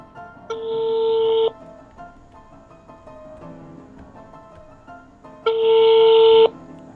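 A telephone call rings out as two evenly spaced ringback tones, each about a second long with a few seconds of quiet between them, clear and close over faint background murmur.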